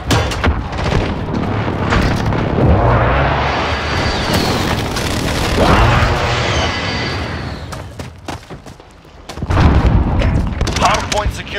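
Precision airstrike explosions in Modern Warfare Hardpoint on the Grazna Raid map: a long run of loud, overlapping booms and crackling blasts that rise and fall, dip briefly near the end, then return in a final heavy burst, with a game announcer voice heard over it.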